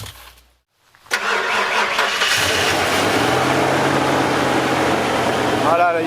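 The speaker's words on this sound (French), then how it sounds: "On va pouvoir démarrer le moteur." A boat engine cranks and catches after a short silence, then settles into a steady, loud running drone that continues to the end.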